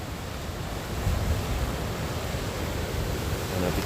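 Heavy surf pounds the shore below the cliffs of Martins Bay at sunrise, a steady broadband roar of breaking waves mixed with wind buffeting the microphone, with no voices.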